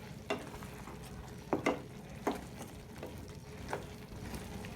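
Taro greens curry with fried fish heads stirred in a pan, a few scattered scraping strokes over a low simmering bubble, close but soft, no talking.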